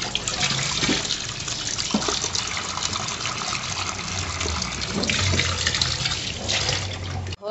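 Tap water runs steadily over fish being washed in a home kitchen, a close, continuous splashing trickle with a few brief clatters, heard alone without talk.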